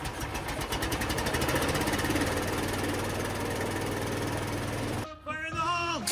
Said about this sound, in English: Yeah, but I have to get my compressor started.